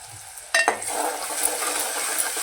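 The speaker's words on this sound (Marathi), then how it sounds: "असा गुलाबी रंग झाला की त्यावर आपण कांदा फोडणीला घालायचा" Onions hit hot oil with a sudden sizzle for chicken curry, then settle into a steady, close frying hiss that continues to the end.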